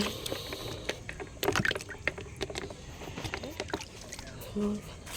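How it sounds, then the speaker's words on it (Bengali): Guavas are swished and splashed in a bucket of water, with faint sloshing and dripping, occasional knocks and a few louder splashes close by, and some quiet voices in the background. "চলো বালতির মধ্যে একটু ধুয়ে"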